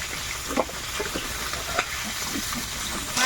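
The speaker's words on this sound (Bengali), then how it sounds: "মাছগুলো ভাজা হয়ে গেছে উঠিয়ে নেব" Fish such as shol, magur and koi fry in hot oil in a pan with a steady, close, continuous sizzle broken by a few sharp pops and small splutters.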